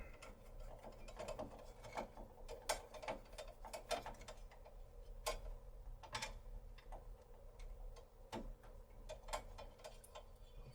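A long screwdriver works on the bracket screws holding the circuit-board covers of a Pioneer stereo receiver, producing faint, irregular ticks and ratcheting clicks with soft metallic scrapes, close but very quiet.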